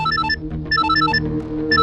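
A telephone rings in repeated bursts of electronic trills with short gaps between them, clear and fairly loud over a soft background hum.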